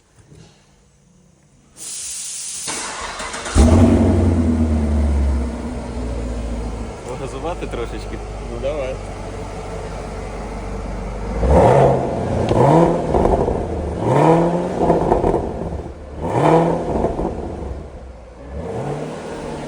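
A Chevrolet Camaro engine cranks and fires up with a loud hissing rush, then settles into a steady idle before several rising revs blip in quick succession, close by, with people talking briefly at the start.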